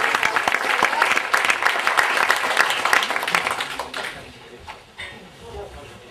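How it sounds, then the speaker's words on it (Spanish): Audience applause at a Getxo blogging event, loud dense clapping that fades out toward the end as voices start talking over it. "les damos un aplauso"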